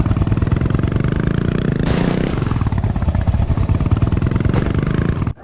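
Motorcycle engine in the video game Indian Theft Auto, a loud, steady mid-pitched drone running continuously with a brief surge of revving near the middle, then cutting off at the end.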